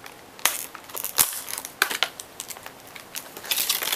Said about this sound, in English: So let's just rip this packaging.